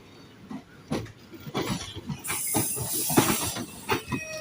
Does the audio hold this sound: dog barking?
no